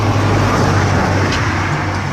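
A car rumbles past on the road beside an outdoor campfire, a loud, steady roar of engine and tyres that fills the whole moment without any voices.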